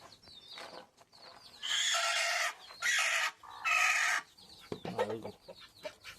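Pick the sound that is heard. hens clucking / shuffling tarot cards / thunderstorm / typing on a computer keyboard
hens clucking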